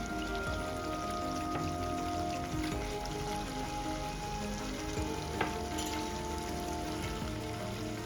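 Eggplant sizzles and fries in an oil-rich masala for a rustic village-style mixed vegetable dish, a steady dense crackle running close and even throughout with a few sharper pops.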